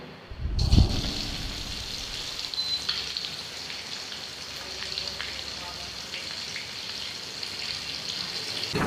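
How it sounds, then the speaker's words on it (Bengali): Eggs frying in hot oil in a wok, starting with a loud splash and burst of sizzle as they hit the oil, then settling into a steady crackling hiss that carries on alone. "চুলায় কড়াই দিয়ে গেছি, কড়াইটা গরম হয়ে গেছে, তেলও গরম হয়ে গেছে। এখন ডিম ভেজে নেব।"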